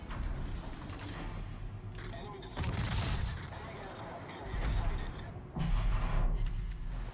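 Naval gunfire from World War II warships in a battle video game: bursts of booming salvos and rumbling blasts rise and fall over steady background noise, with a voice talking now and then.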